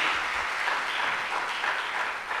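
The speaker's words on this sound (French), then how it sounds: "On peut applaudir, oui." Audience applause at a Congolese Catholic gathering honoring a religious sister, a steady dense wash of clapping filling the whole stretch at even, sustained loudness with no talk over it.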